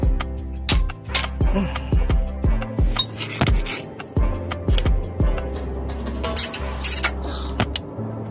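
Bolts thread back in as an idler pulley is refitted on a Toyota 4.0L FJ Cruiser engine, with a run of sharp metallic clicks and clinks from tools, some quick and rhythmic, others spaced apart, close and clear.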